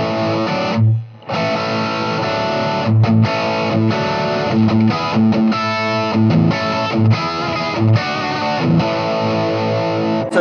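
Electric guitar played through a Blackstar Debut 50R amp set to its British voice gives a distorted, mid-heavy tone. Loud strummed chords and riffs run continuously with one brief dip near the start, and nobody talks.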